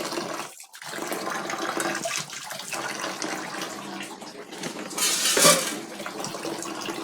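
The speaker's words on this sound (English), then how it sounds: "I'm just going to add water to this." Water pours into a container of soybeans being made into soy milk at home, a splashing, gurgling stream close by with a brief louder gush near the end, no talking.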